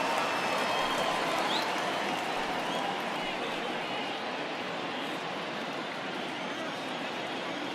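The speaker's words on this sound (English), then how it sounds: "the home crowd seems a little restless" Restless home crowd murmuring and buzzing in a baseball stadium in MLB The Show 20, a steady dense wash of distant voices and low noise throughout, without distinct cheers or claps.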